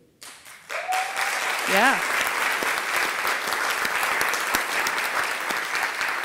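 Sustained applause from a convocation audience at a college, steady and fairly loud throughout with a brief spoken word near the start.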